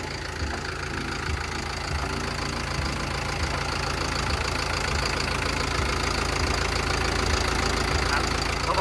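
A Caterpillar 924F wheel loader engine with a turbo runs at a steady idle, a continuous close, even diesel clatter and rumble throughout.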